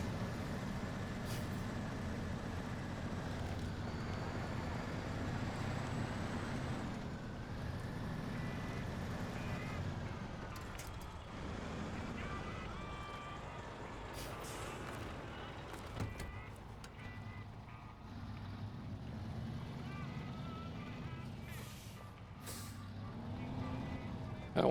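Heavy P16 truck in SnowRunner rumbling steadily through a tight hard-mode route, a deep continuous engine drone with hissing air-brake bursts and small clunks, while someone talks over it throughout.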